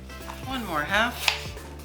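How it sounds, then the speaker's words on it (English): A knife slices thin pieces of apple on a board for an apple cake, several close cuts with one sharp knock near the end and no talk. "As thinly as possible here with a knife."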